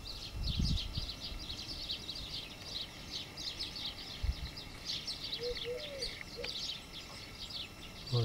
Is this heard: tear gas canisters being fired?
no